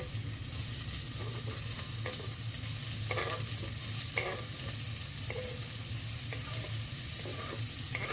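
Chopped onions fry in melted ghee in a hot pan for a Goan crab curry, giving a steady sizzle with intermittent scraping stirs, fairly close and without talk.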